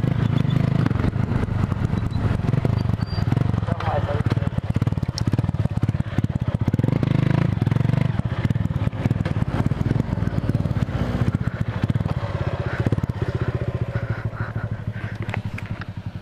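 A small motorcycle accelerating on a loose dirt trail through scrub, its engine buzzing loud and close the whole time with rattling and scraping mixed in.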